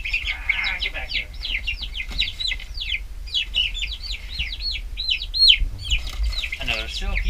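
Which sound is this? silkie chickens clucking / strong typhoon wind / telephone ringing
silkie chickens clucking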